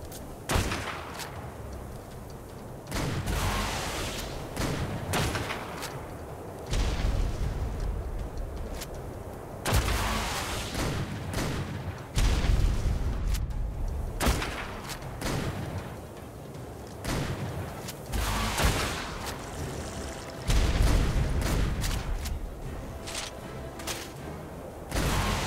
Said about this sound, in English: What are you shooting with, Dana?